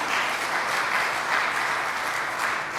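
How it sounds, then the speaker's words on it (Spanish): A church congregation applauds during a sermon, steady dense clapping at an even level throughout with no pauses, slightly distant in a large room. "¿Cuántos le dan un aplauso?"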